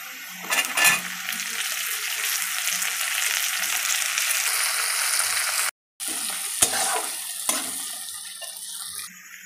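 Chopped onion and green chilli sizzle in hot oil over already-fried potatoes, a steady loud frying hiss with stirring scrapes and clinks of a utensil against the pan, briefly cut off near the middle before resuming.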